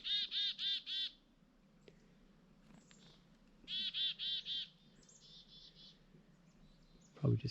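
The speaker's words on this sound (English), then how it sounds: "chickadee." A chickadee gives two quick bursts of high, repeated whistled notes, clear and fairly close, over a faint outdoor background, with a brief rustle at the end.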